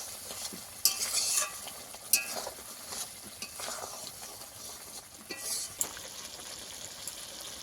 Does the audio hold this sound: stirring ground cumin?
yes